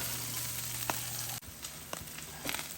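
Chopped cheese meat and melting cheese sizzle steadily on a Blackstone 17-inch E-Series griddle, a close continuous fry hiss with a short break and a few light tong scrapes and clicks.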